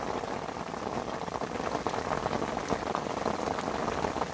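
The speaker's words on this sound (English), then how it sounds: "Oh, we've got a nice little bit of rain." Light rain patters steadily on surfaces around a reservoir bank during a carp fishing trip, a dense, even hiss of drops with no talking.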